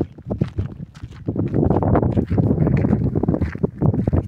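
An engine-driven boat out on the sea off Karachi gives a steady, close motor drone, buffeted by gusty wind noise across the microphone, with no voices.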